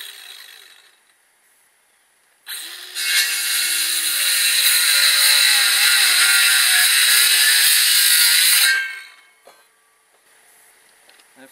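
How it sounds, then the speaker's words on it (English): A reciprocating saw cuts through a 2x4 during greenhouse construction, a loud buzzing, rasping burst lasting about six seconds that starts abruptly and stops sharply, with quiet before and after. "Finished with a sawzall."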